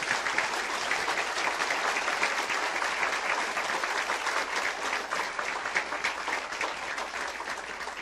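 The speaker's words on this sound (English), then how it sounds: "give them a good round of applause" A crowd at a sheriff's office swearing-in ceremony applauds new deputies with sustained, dense clapping that holds steady throughout, with no talk over it.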